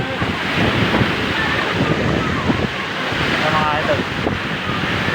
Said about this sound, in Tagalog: Sobrang lakas ng tubig